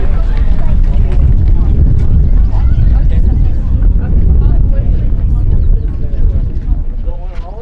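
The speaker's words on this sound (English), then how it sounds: "It's a little breezy." Strong, steady wind roars and buffets the microphone at the mountain summit of Clingman's Dome in the Great Smoky Mountains, a continuous low rumble filling the whole stretch, easing slightly toward the end.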